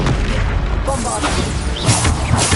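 Heavy booming blasts from the Bombarda explosion spell in Hogwarts Legacy, loud and continuous with rumbling impacts and crackling debris layered over game noise.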